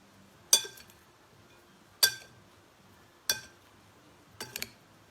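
A utensil clinks against a bowl while panzanella, a Tuscan bread salad, is tossed with extra virgin olive oil; four bright, separate clinks spaced about a second apart, close and clear with no talking.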